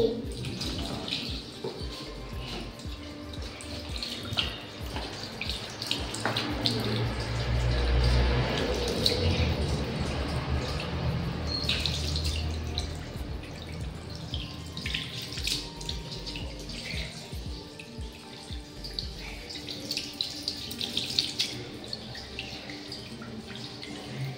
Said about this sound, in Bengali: দেখো আমি মুখ ধুচ্ছি।